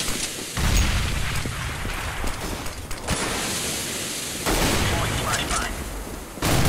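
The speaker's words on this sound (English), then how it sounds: "Throwing a grenade!" Grenade blast and gunfire in the tactical shooter video game CS:GO, a loud, noisy burst of combat that keeps rumbling and cuts out in places.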